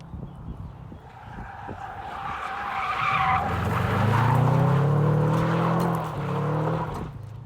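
Rally car sliding through a turn with hardly any steering, tires skidding and squealing as the engine note rises and holds loud and close, then eases.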